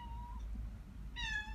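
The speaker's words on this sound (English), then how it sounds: "There are cats, sorry." A cat meows twice indoors: a short, fairly soft cry, then a brighter, louder one about a second later, over a low background hum.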